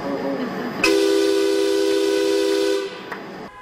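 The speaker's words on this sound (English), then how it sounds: "SEPTA trains, buses, and police cars blasted their horns at 3 o'clock this afternoon." Loud, steady horn blasts from SEPTA trains, buses and police cars sounding together for about two seconds, a sustained tonal honk over background hiss, then fading out.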